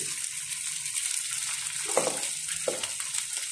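Rice sizzles and crackles steadily in a hot pan for Filipino garlic fried rice, with a couple of sharper bursts of sizzling as it is stirred and tossed.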